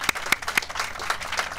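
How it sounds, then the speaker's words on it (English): Scattered applause from a small gathering honoring workers in a community field, with a few sharp individual claps standing out over a soft, uneven patter that stays moderate in level. "we can give you a round of applause"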